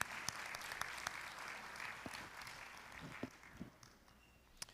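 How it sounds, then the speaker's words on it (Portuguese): Scattered applause from a church congregation during a service, fairly faint and uneven, with a few sharp individual claps and thumps as it fades. "Pode dar uma salva de palmas"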